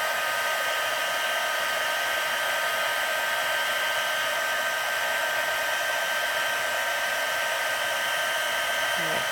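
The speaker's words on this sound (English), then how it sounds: "So turn off the heat tool." A heat tool blows a steady, loud whooshing stream of hot air while melting silver embossing powder on a Christmas card, continuous and unbroken with no talking.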